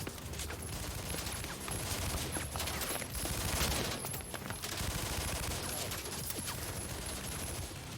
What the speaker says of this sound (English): A Gatling gun?